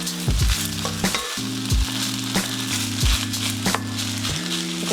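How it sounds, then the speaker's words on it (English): Garlic fried rice with egg sizzles loudly in a pan over low heat, with repeated scraping stirs and spatula knocks breaking up a steady frying crackle, and no talking. "You can see your egg is cooking up into the rice, getting nice and dry there."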